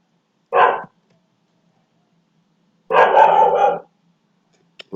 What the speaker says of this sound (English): my dog's just barking right now